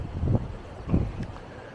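Wind gusting into the microphone at a seaside viewpoint above the water on Gran Canaria near Maspalomas, two low buffeting blasts close to the mic with quieter rustle between.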